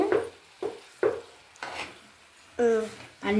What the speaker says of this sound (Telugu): బాగా అయితే కలుపుకోవాలి, ముక్కలకైతే బాగా అంటాల.